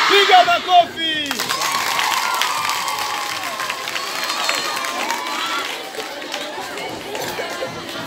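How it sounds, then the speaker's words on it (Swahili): Students at a school gathering in Kigoma region break into dense, loud clapping and cheering right after a brief voice, and the crowd noise stays strong throughout. "Piga makofi."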